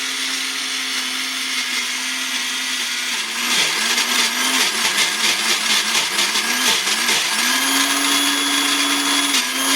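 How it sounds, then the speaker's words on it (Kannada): A mixer grinder whirs loudly and steadily grinding onion chutney, its pitch dipping and wobbling as the contents churn, then settling back to a constant high whine. "ಮಿಕ್ಸಿ ಹಾಕೊಂಡು ಬರ್ತೀನಿ."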